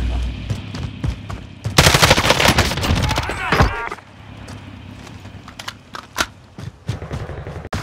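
Burst of gunfire in Call of Duty Warzone, a loud dense volley of shots for about two seconds, followed by scattered single shots and thuds under game ambience.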